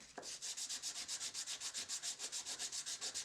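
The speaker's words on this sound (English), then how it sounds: "Now, I'm showing the hand sanding" A knife scale is hand sanded on a block in quick, even back-and-forth strokes, a steady rhythmic rasping of about six or seven passes per second, close and alone.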